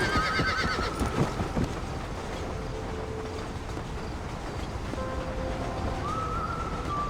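A horse whinnies near the start in the video game Red Dead Redemption, followed by steady hoofbeats and movement under a dense, continuous game soundscape with faint tonal cues.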